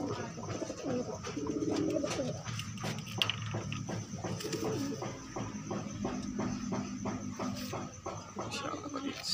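Pigeons coo repeatedly in rhythmic, close bursts beside a loft cage, with a person talking over much of the calling.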